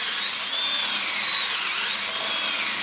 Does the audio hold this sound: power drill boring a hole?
yes